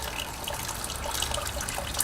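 Hot water from a homebrewing hot water tank gushes steadily into a brew pot, a continuous close splashing pour with no voices.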